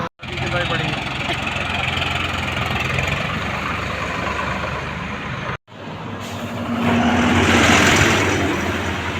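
A Hero motorcycle engine runs at a steady idle, close and loud, with a brief cut-out and then a slight rise in revs, while people talk over it at a roadside traffic police check.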